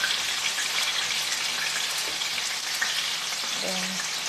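Chicken for butter chicken frying in a pan while being stirred, giving a constant close crackling sizzle with faint scraping of the utensil near the end and no voices.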